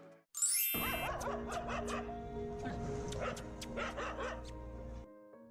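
A mother dog whimpers and gives short yelping barks over her seemingly dead puppy, close and insistent, repeated in quick bursts over a steady background hum.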